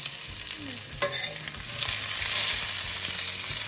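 Spices, chili, curry leaves and onions fry in a pan with a loud, continuous sizzle that swells slightly, with a light clatter of stirring near the start.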